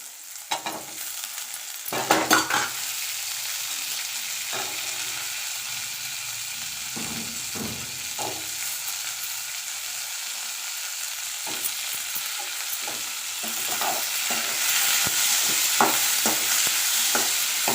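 Tomato, green chili and curry leaves sauté in a pan over low heat while a spoon stirs them, a steady close sizzle with scattered scraping knocks and no talking.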